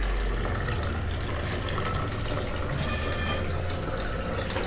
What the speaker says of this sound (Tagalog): Lagyan ulit natin ng tubig ah